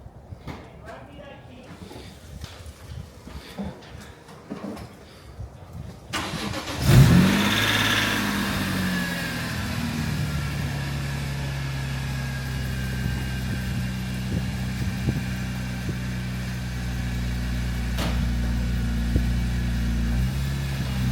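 A BMW E46 M3 wagon's S54 engine with a Euro header starts up and idles with a steady low rumble, revving slightly as it drives off a lift, with indoor clatter and some talking beforehand.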